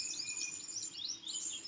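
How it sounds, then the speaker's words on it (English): Small forest birds in Coorg twitter and chirp continuously at a faint, steady level, a dense high-pitched chorus carrying on in the background without any talking. "The birds chirping you are hearing in the background of this entire video is what you hear in this area throughout the day."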